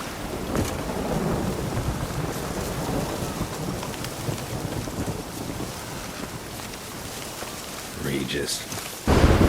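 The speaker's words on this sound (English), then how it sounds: "Storm, damn it." Rain and thunder rumble through a stormy scene in The Witcher 3. A steady wash of rain and wind is broken by deep thunder rolls, with a short voice near the end and a louder gust at the finish.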